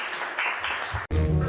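Audience clapping at a live comedy show, a short burst of scattered hands from the crowd that breaks off abruptly before a louder, busier room noise resumes.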